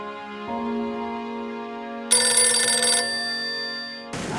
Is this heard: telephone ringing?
yes